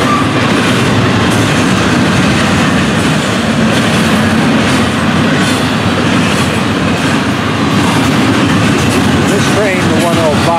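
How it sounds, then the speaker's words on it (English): A Florida East Coast train rumbles past close by, loud steady roar with rhythmic clatter of wheels on rails throughout. "the opposing train, the northbound 704, will be passing"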